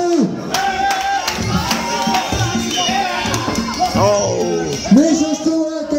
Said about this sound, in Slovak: Hučí to aj publiku!